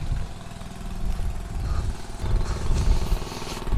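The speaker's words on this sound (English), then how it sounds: "So my granddad's kind of coming along on a little tractor." A small tractor engine drives past outdoors with a steady mid-pitched rumble that swells slightly as it nears, loud and close throughout with no talk over it.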